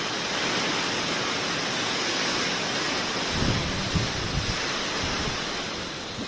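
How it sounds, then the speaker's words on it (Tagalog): Steady, dense roar of heavy rain mixed with gusting wind, loud and continuous with a few thumps partway through. "Ang lakas ng ulan."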